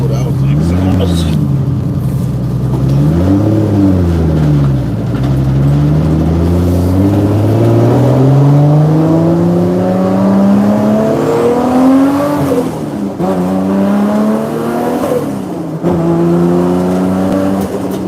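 A car with an LS engine accelerates hard and revs repeatedly, loud rising engine tones climbing through gears with brief dips between shifts, heard from inside the car.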